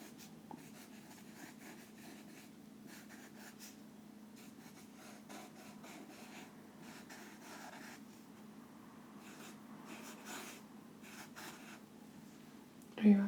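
A pen or pencil drawing flowers and a bush on paper makes soft, close scratching and rubbing strokes in an irregular rhythm, quiet throughout, with a brief louder bump at the end.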